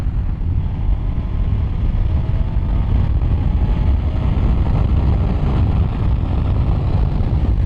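A BMW R1250R boxer-twin motorcycle fitted with a Leo Vince exhaust pulls in fourth gear at around 5,000 rpm, giving a loud, steady low drone mixed with rushing wind throughout.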